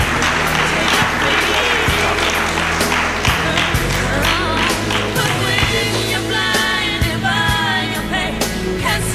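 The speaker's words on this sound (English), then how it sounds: "Another round of applause," Applause at a primary school graduation ceremony, a loud, continuous crowd clapping that fills the room, with voices and bustle mixed in throughout.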